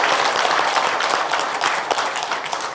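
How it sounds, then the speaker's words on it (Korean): A Korean church congregation breaks into a burst of close, loud, dense clapping that holds steady throughout, with no talking over it. "박수 한번 하겠습니다."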